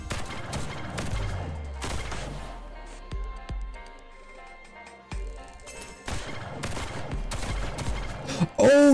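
In-game gunfire comes as scattered sharp shots and clustered bursts over music, with a quieter stretch in the middle before dense shooting resumes near the end.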